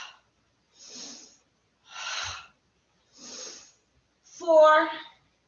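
Four or five slow, audible breaths in an exercise class with hand weights, each a soft airy exhale separated by pauses, the last one louder with a slight voiced edge.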